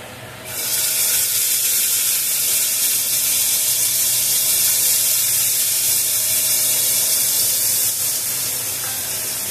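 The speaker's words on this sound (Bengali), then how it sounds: "এবার আমি রসুনটা ভাজবো।" Garlic frying in melted butter in a pan, a steady, loud, close sizzling hiss that starts abruptly after a brief quiet moment and holds evenly to the end.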